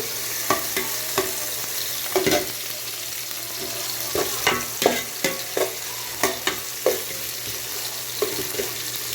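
Onion, tomato and ginger sauté in a pan for milkfish sinigang, a soft steady sizzle broken by a dozen sharp scrapes and clacks of a spoon stirring, close and clear.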